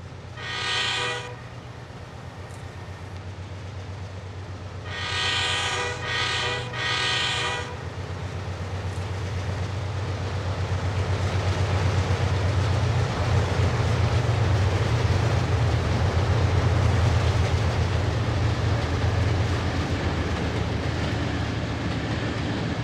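A train runs through Blacktown station without stopping, sounding two loud horn blasts before a rising, sustained roar of wheels and rumble as it passes close by the platform.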